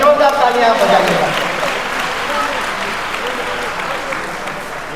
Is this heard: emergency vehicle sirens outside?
no